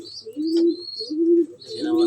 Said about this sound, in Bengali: এই যে আমার কবুতরগুলো, আমার কাছে অনেক ভালো লাগে কবুতরগুলো দেখতে।